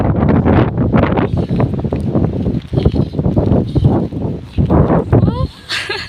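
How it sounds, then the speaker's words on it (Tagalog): Wind buffets the microphone in loud, rough gusts while people talk and laugh close by throughout. "Ang lakas ng hangin, eh."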